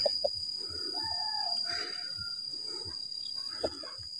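Village chickens in a mountain hamlet cluck and squawk in short bursts, including a rooster, close by over a steady high insect drone and quiet outdoor ambience.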